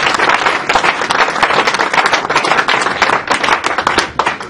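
A church congregation claps steadily and loudly in unison, acclaiming the Lord, a dense continuous rhythmic clapping with no voices on top.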